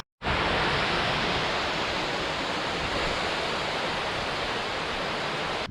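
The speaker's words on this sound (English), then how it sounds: "This waterfall's fabulous." A mountain waterfall on Beinn Alchaladair, Scotland, roars in a steady, loud, unbroken rush of water that fills the whole clip.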